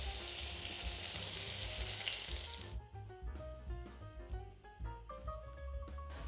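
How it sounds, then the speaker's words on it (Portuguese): Potatoes frying in olive oil, a loud broadband sizzle for the first few seconds that gives way to quieter crackling under a soft melodic background. "Vamos deixá-las fritar um pouquinho no azeite."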